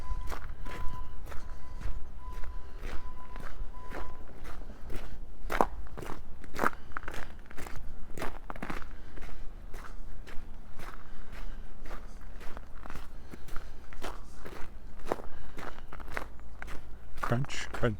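Crunching footsteps on a snowy late-winter path along a creek in Regina, a steady rhythmic tread of close, loud steps that continues throughout, with a brief beeping tone early on.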